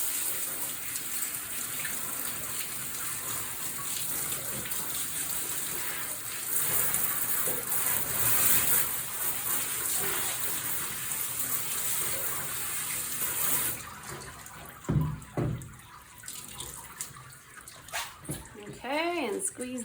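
Water runs steadily from a tap, rinsing soap out of a doodle dog's coat during a grooming bath. The spray is loud and continuous before stopping, and a voice talks near the end.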